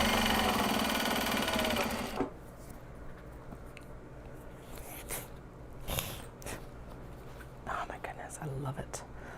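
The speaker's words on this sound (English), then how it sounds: "next bobbin is winding" A sewing machine winds a bobbin with a loud, steady whir for about two seconds before stopping. Quiet handling noises and soft whispered talk follow.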